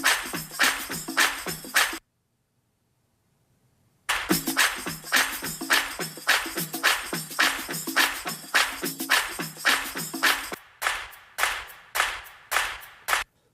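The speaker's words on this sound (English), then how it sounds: "So that's just a clap." A clap sample in a music mix, looped in a steady rhythm of bright, snappy hits that sits up front in the mix. It stops dead for two seconds, then returns, and a few sparser hits close out the passage.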